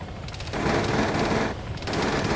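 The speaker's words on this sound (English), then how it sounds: "That's not me firing." Sustained automatic gunfire in the Arma 3 video game, a dense rattling burst that swells, pauses briefly near the middle, then resumes, heard fairly close without talk.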